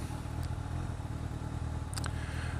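A motorcycle engine idles and rumbles steadily while parking in town, a constant low throb with a couple of brief clatters or clicks, heard close and alone.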